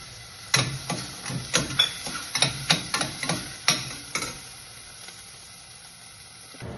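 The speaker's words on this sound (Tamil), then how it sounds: "அதுக்கப்புறம் பட்டாணி, இது கொஞ்சம் வதக்கிக்கிறேன்." Peas and tomatoes sautéing in a pan for a vegetable kheema, with a rapid run of sharp spatula taps against the pan over a soft sizzle, then a quieter stretch of low frying.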